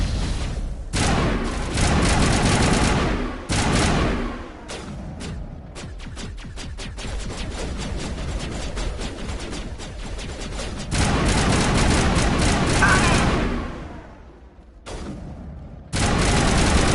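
Sustained gunfire in a Mass Effect firefight, dense bursts of shots and booms rolling on almost continuously, with a brief lull near the end before firing resumes loudly.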